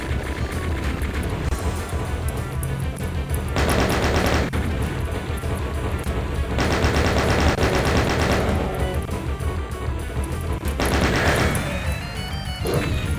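Rapid, loud gunfire from small hitscan spider enemies in a Doom mod, battling a spider mastermind, rattles on continuously in dense bursts with heavy impacts and no speech.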